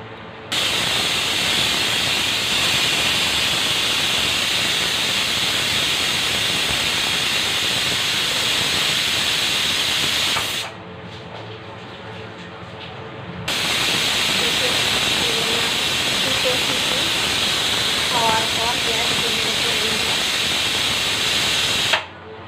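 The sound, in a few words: pressure cooker hissing steam while cooking lentils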